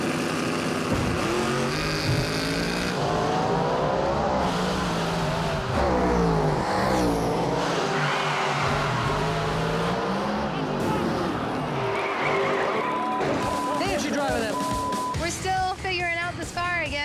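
Nitrous-injected big-block drag race car at a no-prep drag strip in Tucson, loud engine roar with revving and shifting pitch throughout, mixed with announcer-style talk and crowd noise.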